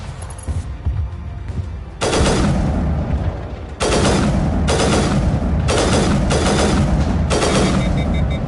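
Sniper rifle fire in Mass Effect Legendary Edition: loud, heavy shots in repeated bursts over a steady din of battle, with no talking.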